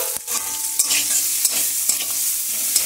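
Chopped onions fry in a pan, a loud, bright, steady sizzle with occasional scraping stirs, heard up close without any voices.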